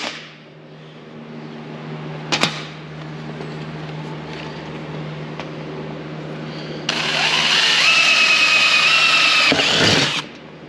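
A power drill bores into a center-punched spot on a drag wing for a Datsun 240Z, starting after a brief tool clack and whining steadily for about three seconds before stopping, close and fairly loud.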